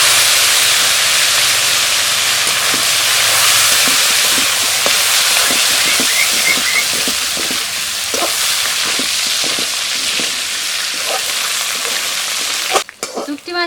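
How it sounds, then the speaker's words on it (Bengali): Dried fish (shutki) frying in hot oil in a pan, a steady loud sizzle and hiss with scattered crackles and pops running throughout, ending with a few clattering knocks. "শুকটি মাছটাকে ভেজে নেব।"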